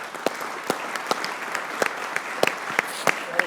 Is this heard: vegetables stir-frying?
no